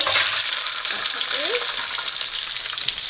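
Onion and bell pepper sizzling and frying in a pan with spice, a steady close crackling hiss with faint stirring and scraping of the utensil.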